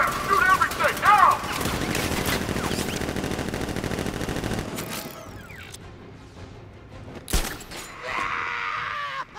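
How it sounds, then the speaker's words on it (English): Rapid sustained gunfire and mechanical clatter from Batman Arkham Knight fill the first several seconds, then cut to quieter ambience with a sharp impact and a swelling noise later, with a voice speaking over part of it. "Open fire! Shoot everything!"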